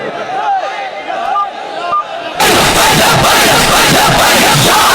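A large crowd at a rally chants Labbaik slogans, a speaker's amplified voice first, then a loud massed roar of voices bursting in and continuing close and dense to the end.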